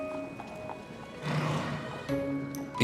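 Horses of the King's Guard ride in military formation, their hooves clip-clopping in a faint, uneven rhythm, with a neigh and some background rustle in between.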